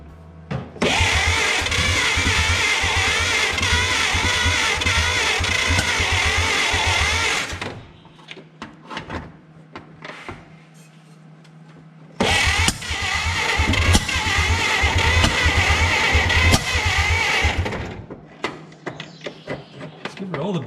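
An abandoned 1950 Dodge pilothouse truck engine runs loud and rough for several seconds, drops to near silence with faint clatter, then roars back up under revving throttle before easing off.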